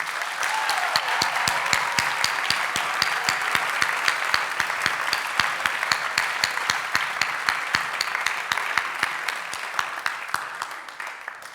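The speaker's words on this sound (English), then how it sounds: "One more round of applause for Anna." An audience applauds at the Salt Spring National Art Prize 2025 gala and awards ceremony. The crowd claps steadily, with sharp, regular claps close by standing out throughout, and the applause tapers off slightly near the end.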